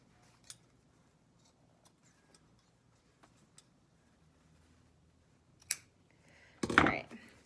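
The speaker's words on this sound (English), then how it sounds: "Let's cut the edges off of that side binding that you made." Scissors cut the edges off a homemade fabric side binding for an N95 mask cover, a few faint ticks followed by one sharp snip and a louder, longer close cut.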